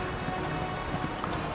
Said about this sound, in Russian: дождь только портит экспозицию